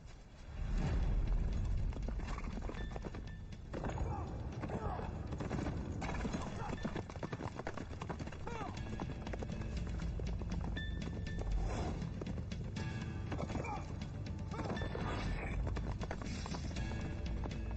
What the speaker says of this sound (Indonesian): Tiga suara berat dan satu suara ringan dari kuku kuda, dan kuda-kuda itu tidak berlari cepat